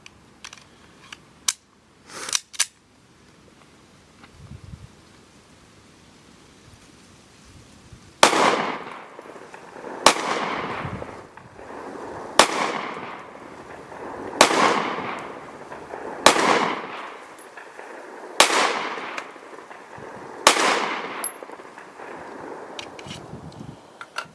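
A Remington R51 pistol fired through two magazines: a few sharp clicks at first, then a steady sequence of about eight loud, crisp gunshots spaced roughly two seconds apart, each trailing into a brief echo.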